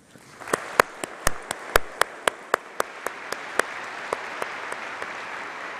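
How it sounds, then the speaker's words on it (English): Audience applause following a speech at a college ceremony, a steady wash of clapping from a fairly large crowd with a few sharp, close claps standing out, holding even for several seconds. "So congratulations to you, and I think a huge round of applause for Amratpal for his excellent speech."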